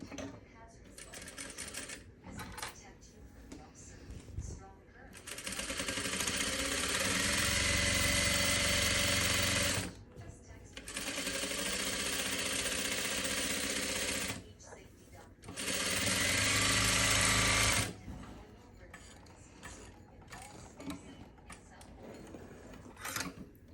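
Juki 8100e sewing machine fitted with a size 16 organ needle, quilting crosswise rows: three long, steady runs of fast mechanical stitching, separated by short pauses with small handling clicks and some talk.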